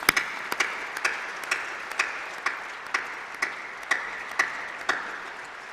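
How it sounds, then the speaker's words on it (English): A graduation ceremony audience applauds graduates' families, friends and tutors, sounding as a thin, even patter with regular sharper claps at a steady beat, fairly soft and continuous without speech. "Please give all of them a big round of applause."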